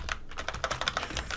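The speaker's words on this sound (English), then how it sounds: "Bear with me on the typing here." Computer keyboard typing in quick, uneven bursts of close, crisp keystrokes, without speech.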